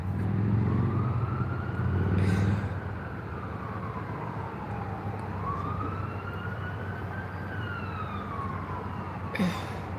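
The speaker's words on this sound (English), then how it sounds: "You always hate it when you hear the ambulance." An ambulance siren passing at a distance, its wailing tone rising and falling in long sweeps over steady background rumble, moderately faint and alone.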